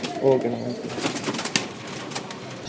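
Racing pigeons coo softly near the start, then the sound fades into a busy background with nearby voices and rustling.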